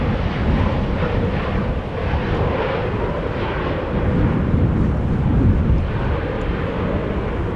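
A fixed-wing airliner arriving at Amsterdam Schiphol Airport in breezy post-storm weather rumbles as a broad, continuous, fairly loud roar mixed with wind, with no talk over it.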